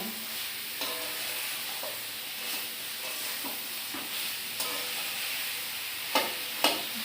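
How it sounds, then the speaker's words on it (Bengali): Food frying and being stirred in a pan for a vegetarian meal, a steady soft sizzle with occasional scraping stirs and a few sharper clinks near the end, heard alone without talk. "ভাজা ভাজা হোক, দেখি ভাজতে থাকি।"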